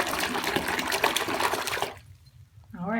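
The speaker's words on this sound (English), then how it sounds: "I'll probably let a little of my water out" Steady rushing and gurgling of bath water draining out of a tub for about two seconds. Then it quiets, and a brief higher swirling gurgle follows. The water held a dissolved Lush bath bomb and bubble bar.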